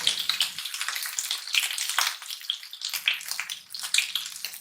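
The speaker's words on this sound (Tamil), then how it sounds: "ஆயில் நல்லா சூடாயிடுச்சு, நம்ம மீனை சேர்த்திக்கலாம்." Pieces of masala-coated seer fish sizzle steadily in hot oil in a pan, a continuous crackling and spitting, close and moderately loud, with no talk.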